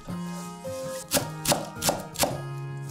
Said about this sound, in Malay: Potong daun sup,